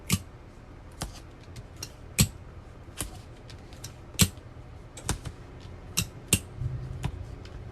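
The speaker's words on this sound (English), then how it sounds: "we're going to tape up our seam again" Repeated sharp ticks and snaps from tape being pulled and pressed along the seam of a sublimation sock, landing in an irregular rhythm of close, crisp clicks with no one talking.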